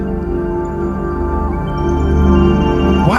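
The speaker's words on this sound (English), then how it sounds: "That sound is the sound that's coming from a tree." Music generated from a tree's bioelectricity translated into MIDI by a MIDI Sprout, dense sustained tonal layers with wavering pitched lines, loud and steady, rising slightly toward the end.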